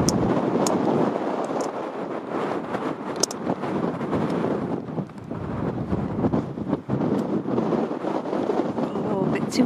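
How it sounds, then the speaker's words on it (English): Strong wind buffets the microphone in a steady, heavy roar that rises and dips throughout, with a few faint clicks poking through. "Too windy today, I think"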